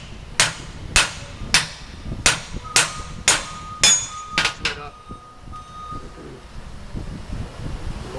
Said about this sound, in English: Take a hammer right there.